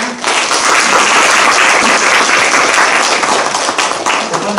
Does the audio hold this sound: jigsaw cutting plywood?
no